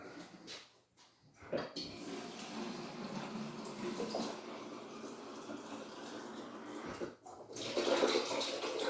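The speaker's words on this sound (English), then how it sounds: "So if I just go put some water in, and then I'll show you what I put in it." Tap water runs steadily into a plastic drink shaker bottle, filling it about halfway with a continuous splashing rush, pausing briefly before resuming louder near the end.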